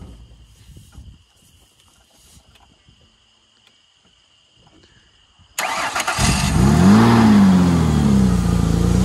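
After a quiet stretch with faint background noise, a Honda Civic engine cranks and fires suddenly, then revs up loudly and holds a rising and falling roar close by.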